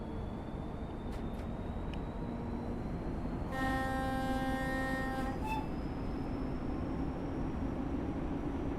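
A faint, steady turbo whine rises slowly over the low rumble of a diesel train in Train Sim World 6 on the Liberec–Stará Paka line, with a loud two-second horn blast partway through.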